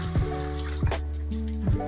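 Jackfruit is rinsed in a colander under running kitchen water, a close splashing flow with brief gurgles and drips.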